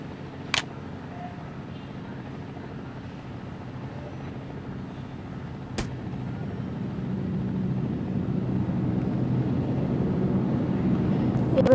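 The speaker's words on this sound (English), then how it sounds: "Another helicopter." A helicopter in the battle-royale game Rules of Survival gives a steady droning rotor and engine hum that slowly swells louder, broken by two sharp clicks and with no talk over it.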